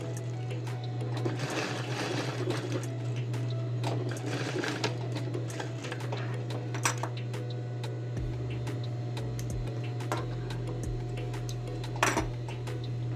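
Domestic sewing machine stitching a label onto the collar stand of a women's shirt, a steady close mechanical whir running the whole time, with small clicks and taps near the end.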